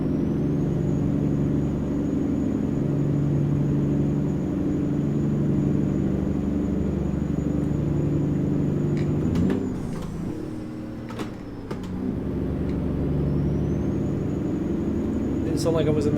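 A steady low engine drone of a heavy truck in American Truck Simulator runs throughout, with a brief dip and a few clicks midway, then resumes evenly.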